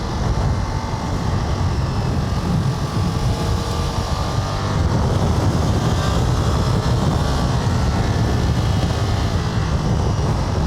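A Ducati Multistrada V4 RS motorcycle in race mode, its engine a steady, loud, dense roar under riding wind noise, swelling slightly in intensity partway through as it accelerates, with no talk.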